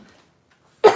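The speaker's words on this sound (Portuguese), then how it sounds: "A tosse." A single short, sharp cough bursts out near the end after near silence, close and abrupt.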